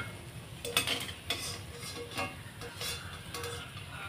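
Fried gram-flour fritters lifted from a pan of hot oil: light metallic clinks and scrapes of a spatula against the pan over a soft, continuous frying sizzle, close by and without talk.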